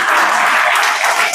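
Loud, dense applause from an audience at a talk about a young man who opened a village library, a brief continuous burst of many hands with no speech.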